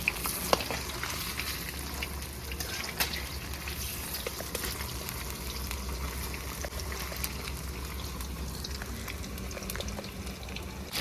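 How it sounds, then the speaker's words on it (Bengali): Cauliflower 65 pieces fry in hot oil, a steady close sizzle with crackling pops and occasional stirring clicks, continuing without talk. "আমার একবার ভাজা হয়ে গেছে,"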